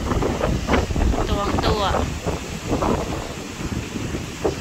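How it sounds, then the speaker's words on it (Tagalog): Steady wind rushes and buffets the microphone throughout at a beach resort, with people talking over it in the foreground. "Sarap ng hangin."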